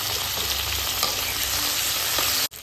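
Onions frying in a pan, a dense continuous sizzle with faint stirring scrapes, close and steady until it cuts off abruptly near the end.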